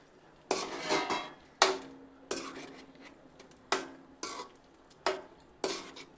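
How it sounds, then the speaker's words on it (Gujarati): Manchurian balls stirred into thick gravy in a pan, giving a regular series of sharp utensil knocks and scrapes against the pan, roughly one every half second to second, close up with no talking. "હવે તેમાં આપણે મંચુરિયન બોલ્સ છે તેને પણ નાખી દઈએ અને સારી રીતે મિક્સ કરી દઈએ."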